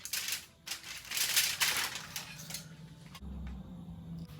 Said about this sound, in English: So now we're going to remove the foil.